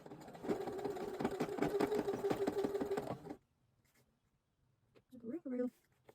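A sewing machine stitching fabric for a DIY cropped jacket, running in a fast steady rhythmic whir for about three seconds before it stops, followed by a brief moment of speech.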